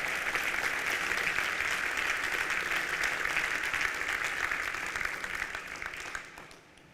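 Sustained applause from a church conference audience, dense and steady at full strength before tapering off near the end, with no talk over it.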